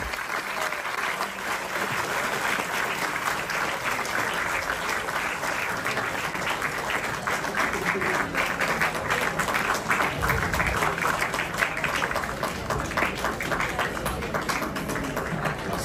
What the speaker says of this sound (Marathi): कमीत कमी 50 टाळ्या व्हायला हव्या.